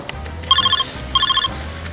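A telephone rings twice, two bursts of bright trilling bell tones separated by a short pause, fairly close and clear over a quiet room.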